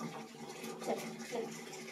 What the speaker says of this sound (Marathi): दादा टाक पाणी